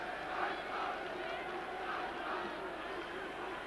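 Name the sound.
stadium crowd of football spectators, Brøndby match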